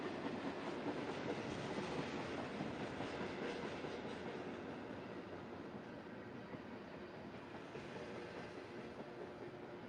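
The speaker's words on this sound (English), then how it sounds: "And there goes the train." A train rumbles past at a distance in Mukilteo, Washington, a continuous broad roar with faint clickety-clack of wheels, steady throughout and slowly fading a little.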